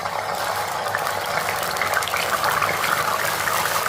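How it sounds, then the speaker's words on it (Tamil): Amla and onion juice poured into hot oil for a homemade hair-growth oil, a steady hissing, bubbling sizzle close up that holds at an even level throughout with no talking. "நம்ம வந்து நெல்லிக்காவையும் வெங்காயத்தையும் ஜூஸாவை எண்ணெயில் ஊற்றிருக்கோம்"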